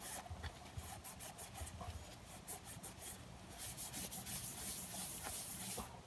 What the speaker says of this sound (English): Give it a good wipe.